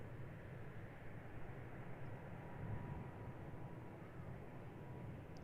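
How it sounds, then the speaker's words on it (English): A KLM Airbus A321 arriving from Madrid lands at Schiphol's Polderbaan runway, a distant, even roar of jet engines sustained throughout without voices. "A321 KLM. First one to come up."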